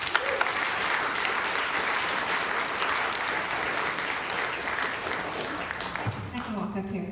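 A crowd greets a speaker with loud, continuous applause filling the room, fading out near the end as a voice begins to speak.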